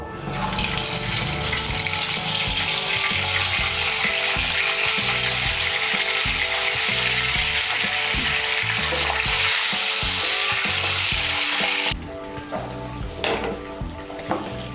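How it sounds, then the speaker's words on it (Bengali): Steady, loud sizzling and crackling of spiced eggs frying in hot mustard oil, continuous and close, easing off near the end. "তেলটা গরম হয়ে গিয়েছে, এর মধ্যে আমি নুন, হলুদ আর লঙ্কা গুঁড়ো দিয়ে মেখে রেখেছি ডিমগুলো, এগুলো ভেজে নেব।"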